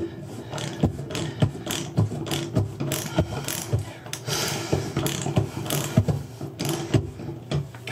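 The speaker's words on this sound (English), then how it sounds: "the ridges of the extractor bite into the old drain." A drain extractor tool, pressed down hard, grinds and ratchets against an old corroded bathtub drain, giving a close, loud run of irregular scraping clicks and metallic clunks.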